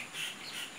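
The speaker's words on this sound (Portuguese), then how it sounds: "os meus amigos e amiguinhos pássaros, glorificando essa natureza bela." Small songbirds chirp outdoors in a quiet natural setting, a brief run of high thin tweets heard faintly over soft background hiss.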